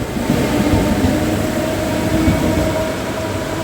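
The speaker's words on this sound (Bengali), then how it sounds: "ট্রেন তো এখন বেরিয়ে যাচ্ছে" A train pulls out of Banpur station on the Kolkata–Gede line in heavy rain, a steady loud rumble with continuous low-frequency roar and broadband hiss, sustained and close throughout.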